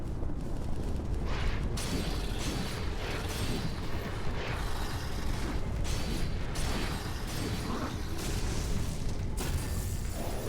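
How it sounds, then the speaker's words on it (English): Explosion in the video game Code Vein, heard as a sustained, loud roaring blast with crackling bursts and rumbling debris that carries on for several seconds without speech. "I dodged the explosion."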